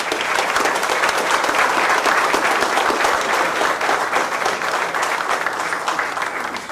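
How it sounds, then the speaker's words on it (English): A room full of people claps steadily and warmly for fire and EMS crews at an award ceremony. The applause is dense and sustained throughout, with no voices standing out. "I think we just need to give them a round of applause."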